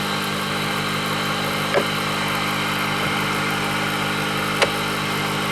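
An Emco Unimat 3 lathe takes a light spring cut on a heat set adapter, running as a steady motor hum with a constant tonal whine and two brief faint clicks, close and alone.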